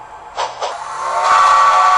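A single short steam-style whistle from a toy or model train sounds after a couple of brief hissy puffs, rising into a steady, fairly loud tone.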